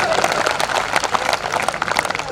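An audience at a Hindi comic poetry gathering claps continuously in a dense, lively burst of many hands, filling the clip.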